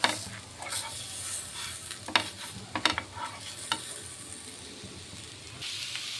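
Moong dal pesarattu batter sizzles and crackles steadily on a hot pan, with a few sharper scraping or spreading sounds, close and moderately loud with no voices.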